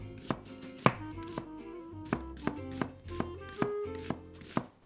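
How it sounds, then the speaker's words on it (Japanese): A kitchen knife slices an onion thinly along its vertical lines on a cutting board, about a dozen crisp, evenly spaced chops ringing out close and clear with no voices. "玉ねぎはこの縦の線に沿って薄切りにしていきます。"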